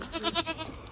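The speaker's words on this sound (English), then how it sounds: "He's my neighbor's goat." A neighbor's goat kept in a pen bleats in a short, close, wavering cry that rises and falls across about a second, with no talking.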